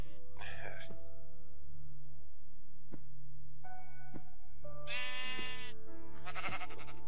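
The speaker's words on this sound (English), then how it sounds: "let's kill some of these sheep" Blocky sheep in Minecraft bleat several times, short wavering calls spaced apart, over steady game background tones and occasional clicks.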